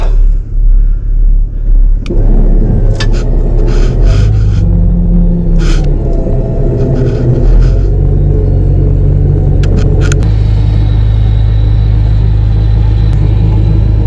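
Vehicle engine in gear revving steadily under load while a winch pulls, a loud continuous low rumble close by throughout, swelling and shifting pitch midway with some clanks.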